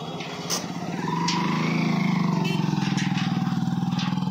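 A motorbike passes on a street in Bhairahawa, its engine hum swelling and holding steady close by, with people talking over it.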